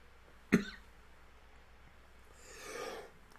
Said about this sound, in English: I just give myself a fucking cough